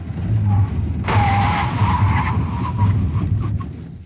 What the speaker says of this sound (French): Alors, on va tester les freins.